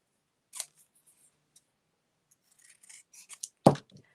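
Scissors snip through paper while decorating a waterfall portfolio book, giving a few light, scattered crisp cuts ending in one sharper, louder snip close by.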